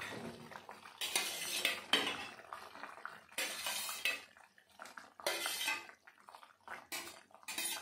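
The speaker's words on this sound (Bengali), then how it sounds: "বন্ধুরা ঢাকনাটা আমি খুলে নিচ্ছি" Lid lifted off a pot of boiling potatoes on the stove, a series of metallic clanks and rattles in separate bursts with quiet gaps between, close by.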